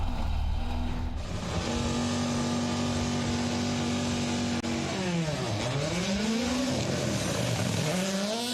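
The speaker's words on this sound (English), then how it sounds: "Love the way the car is just up on its haunches as it takes off the line." WRC rally car in gravel spec leaving the line at the Rally de Portugal 2024 shakedown: a loud, steady engine drone whose pitch dips sharply, then climbs again as the car pulls away.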